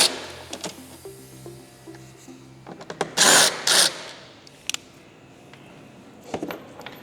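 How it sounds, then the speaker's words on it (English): A T25 screw is backed out of a speaker grill on a 2024-2026 Harley-Davidson Street Glide Ultra with a power driver, giving two short, loud whirring bursts between faint clicks and small metallic taps, with no talking. "So we'll take the screws out first."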